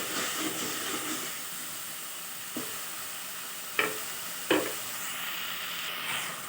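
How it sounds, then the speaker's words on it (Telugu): Ginger garlic paste fries in hot oil in a pan for a mutton and okra curry. A steady close sizzle carries a few sharp scraping knocks from the stirring spoon, with no voices. "అల్లం వెల్లుల్లి పేస్ట్ కూడా సేమ్ అలానే ఫ్రై చేసేసుకుందాం పచ్చి వాసన పోయేంత వరకు"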